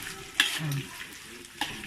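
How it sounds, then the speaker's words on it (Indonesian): Egg and anchovies are stirred while they fry in a pan for kampung-style nasi goreng, giving a steady close sizzle with scraping and clinking utensil strokes. "Kita masukkan telur. Nah, sudah kita masukkan telur, kita kacau dengan ikan bilisnya."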